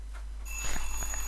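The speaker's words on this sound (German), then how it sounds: "Das war der Timer." A timer in a Minecraft-style game rings with a bright, high electronic tone that starts partway through and keeps ringing over a low hum.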